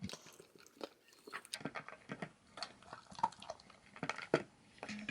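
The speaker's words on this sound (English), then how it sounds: "Kaiser, are you chewing on the bowl or the food?" A dog chewing dry food kernels in a bowl, with crisp close crunches, clicks and occasional knocks against the bowl in an irregular rhythm, quiet and up close with no talking.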